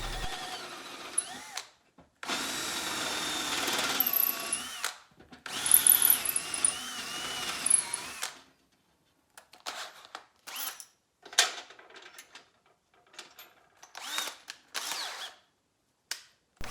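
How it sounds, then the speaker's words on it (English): A power drill boring stepped holes into a block for a homemade phone holder, loud whirring bursts of several seconds each, then a string of shorter start-stop runs separated by silence. "when you're drilling your hole, you want to stop 5mm before you break out the other end"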